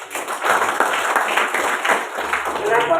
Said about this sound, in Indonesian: tepuk tangan dulu dong buat Tuhan